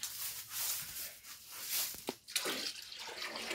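Water pours from a watering can into a trough at a horse stable, with an uneven splashing, gurgling stream that rises and falls over a few seconds, close by and with no speech.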